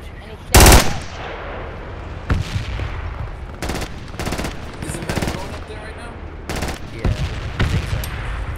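Rifle and automatic gunfire in Project Reality on the Muttrah map: several loud broadband bursts and single shots at irregular intervals, with a faint voice talking between them.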